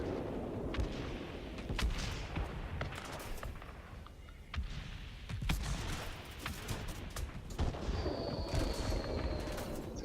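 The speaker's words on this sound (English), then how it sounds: "Starting to take flak." Anti-aircraft flak bursts at a German Heinkel He 111 H-2 bomber in World of Warplanes, sounding as scattered sharp booms and cracks over a constant engine drone.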